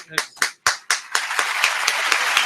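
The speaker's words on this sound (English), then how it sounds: "Give him a round of applause as he exits." A studio audience on a talk show claps as a guest walks out, starting with a few separate sharp claps that quickly build into steady, dense applause close by.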